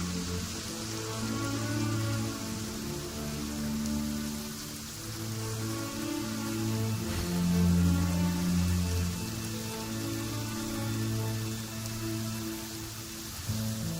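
Steady rainfall in the Genshin Impact game world, a soft continuous patter of drops on surfaces heard alongside sustained low musical tones, with no speech.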